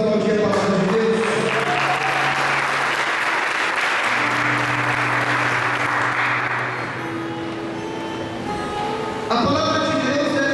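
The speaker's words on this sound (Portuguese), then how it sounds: "Vamos aplaudir a palavra de Deus." Church congregation applauding after a scripture reading, a dense steady clatter of many hands filling the space for most of the stretch, with some music or sustained tones underneath and talk resuming near the end.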